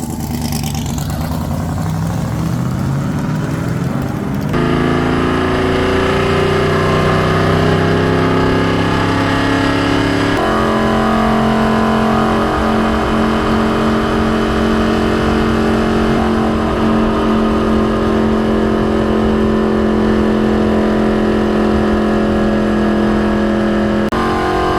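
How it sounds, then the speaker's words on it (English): A loud, roaring NASCAR stock car engine drones steadily throughout a ride-along at Daytona International Speedway, shifting pitch as it accelerates through gears, with no talking. "there's not much talking because the engine's so loud"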